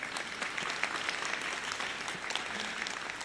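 Steady applause from a university commencement audience fills the hall, a dense wash of many hands clapping at once and holding even throughout.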